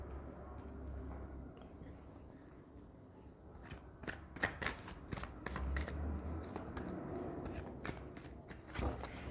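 Tarot cards being shuffled by hand, close up: soft papery riffles and rapid flicking slaps that grow busier and louder partway through, with no voices.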